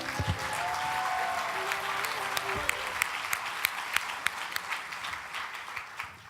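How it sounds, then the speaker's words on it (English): An audience applauds at a youth leadership summit during an annual education conference, with dense, steady clapping and sharp individual claps that slowly thin out. "Can we give them another round of applause real quick?"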